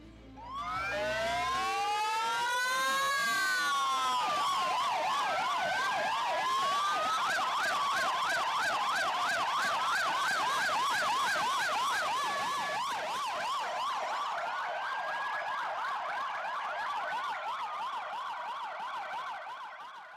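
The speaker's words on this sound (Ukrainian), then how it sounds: "В останню путь бійців проводжали під звуки сирен пожежних машин." Several fire engine sirens wail and yelp together at a funeral procession for fallen soldiers, overlapping with rising and falling tones, loud and continuous throughout.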